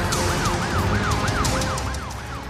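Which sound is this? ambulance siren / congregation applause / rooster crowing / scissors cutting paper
ambulance siren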